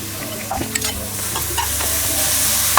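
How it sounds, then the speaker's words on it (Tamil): Grated carrot sautéing in ghee over low heat for carrot halwa: a close, steady sizzle under stirring strokes and occasional spoon scrapes and taps against the pan, with no voices. "இந்த நெய்லேயே வதங்கும், கலர் மாறுங்க. நான் சிம்மில் வச்சு வதக்குறேங்க"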